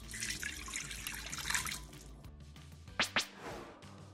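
Water poured into an Instant Pot makes a fizzy splashing pour for about two seconds, followed by a quieter pause and two short sharp knocks or clinks near the end, close and fairly soft.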